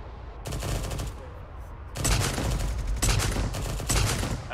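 Rapid gunfire from the video game Arma 3, with bursts of fire that overlap and repeat through the moment, loud and fairly close, a thick steady spray of shots with no talk over it.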